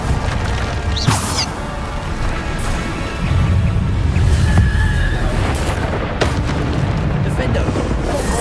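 The Bombarda spell goes off in the video game Hogwarts Legacy as a loud, rumbling blast with crashing impacts. The heavy booming runs on over several seconds of busy combat noise.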